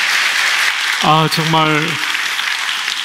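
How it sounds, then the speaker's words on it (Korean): Church congregation applauding during a New Year sermon festival at a Baptist church, a broad hiss of clapping throughout, with a voice speaking briefly over it in the middle. "이런 박수는 처음 받아봅니다"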